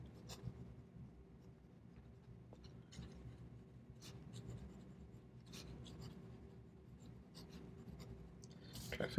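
A Porsche Design P3100 Tech Flex fountain pen with a medium nib writes quickly across paper, giving a soft, steady scratching with small ticks and strokes, close and quiet throughout.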